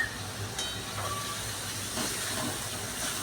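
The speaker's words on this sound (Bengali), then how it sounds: "মশলাটা একটু ভাজা ভাজা করে নেব," Ginger and garlic paste with onion fries in a pan over raised heat, giving a steady, fairly quiet hiss with occasional faint stirring scrapes.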